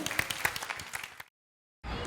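Small audience at a Reiki business event applauding a guest, a quick burst of clapping with a few sharp individual claps that cuts abruptly to silence, then resumes briefly.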